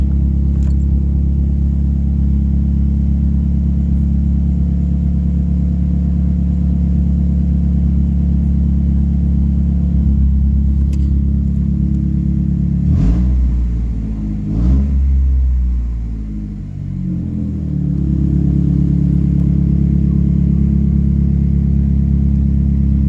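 A Mazdaspeed 3 with a newly fitted AEM methanol solenoid rumbles loud and close throughout a test drive, its engine droning steadily with a couple of brief rev changes midway, no voices.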